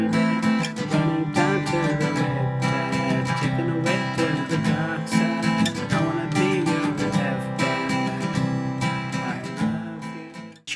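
Steady, full acoustic guitar strumming of the chorus of a song, loud and continuous with a rhythmic pattern of chords, no voices.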